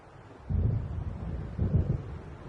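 Rumbling thunder from an approaching storm over open sea waves in a video game, two heavy low swells rolling in around the half-second and near the end, with a windy background and no talk.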